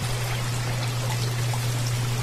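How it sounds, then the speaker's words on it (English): Water flowing through linear troughs in a large aquaponics greenhouse, a steady close trickle and rush with a constant low pump hum beneath, no talking. "the water comes over to these linear streams or troughs"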